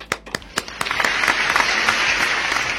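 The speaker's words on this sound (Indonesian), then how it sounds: "Minta tepuk tangan yang meriah untuk Bayu Arizona." A crowd breaks into applause, starting with a few scattered claps that quickly swell into steady, dense clapping that continues to the end.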